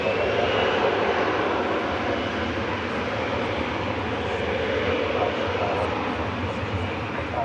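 An airplane taking off at DFW Airport from runway 18 left, a steady broad engine roar holding loud and unbroken throughout, with faint radio chatter underneath.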